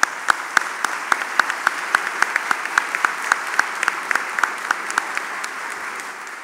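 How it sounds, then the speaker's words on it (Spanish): An audience applauds Giovanni, the book designer, at a book presentation marking the centenary of the customs agent figure. Steady, moderately loud clapping fills the room, with sharp individual claps standing out over the dense wash. "yo pediría un aplauso para Giovanni"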